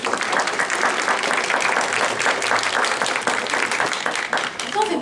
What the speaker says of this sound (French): applaudit très fort, s'il vous plaît.